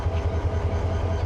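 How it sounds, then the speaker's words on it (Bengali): The diesel locomotive of the Tista Express idles at a Dhaka station platform, giving a steady low throbbing rumble with a continuous mechanical drone and no voices. "এই যে তিস্তা এক্সপ্রেসের ইঞ্জিন লাগানো শেষ।"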